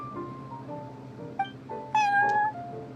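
Prince the cat in Genshin Impact gives two short, clear meows close up, the second longer and rising, over a soft musical background.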